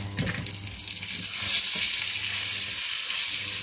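Ingredients that are already cooked get stirred in a hot pot for an Ikok des Bassa dish, with a steady close sizzle and a few scraping knocks of the spoon early on, and no one speaking.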